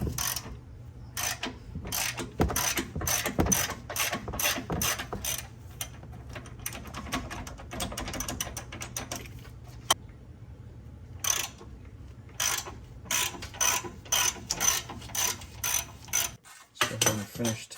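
Hand ratchet clicking rapidly on 13/16 upper bushing bolts of a car, repeated bursts of close metallic ratcheting separated by short pauses over a low steady hum.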